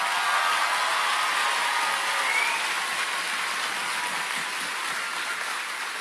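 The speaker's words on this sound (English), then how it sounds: "will you give all of these wonderful people a round of applause?" A graduation audience applauds in a steady, sustained wash of clapping that fills the room, fading slightly toward the end, with no one speaking over it.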